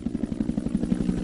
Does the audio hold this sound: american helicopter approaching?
yes